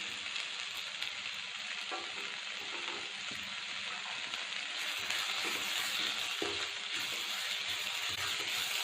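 Vegetables sautéing in a pan for dosa batter give a steady, close sizzle and fry with occasional stirring scrapes and clicks throughout.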